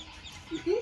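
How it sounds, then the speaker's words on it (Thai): Farm chickens cluck nearby, with two short tonal calls rising over a soft rustling background in under a second. "เลี้ยงไก่"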